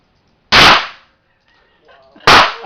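Two loud, sharp blasts from a Smith & Wesson 500 Magnum revolver, spaced nearly two seconds apart, each with a brief ringing decay, with faint quiet voices between the shots.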